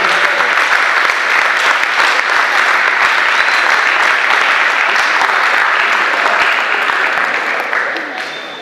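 Strong, sustained applause from an audience in Rufino, steady and dense for several seconds before fading slightly at the end.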